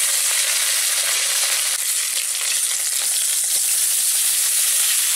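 Ginger paste and turmeric powder frying in a pan for a village-style lunch, a loud, steady, close sizzle that hisses without pause and no voices.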